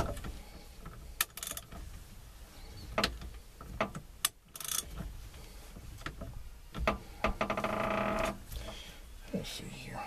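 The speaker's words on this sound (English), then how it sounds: "Hate Stanley ratchets." Stanley ratchet wrench clicking as it turns a bolt while a turn signal switch is removed from a 1995 Jeep Wrangler, a run of rapid ratcheting clicks near 8 seconds among scattered clanks and handling noises.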